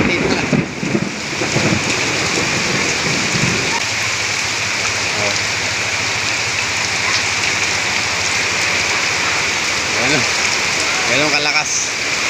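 Sudden heavy rain pours steadily and loudly during a flood in a residential area, a dense constant roar, with a few faint voices or calls under it.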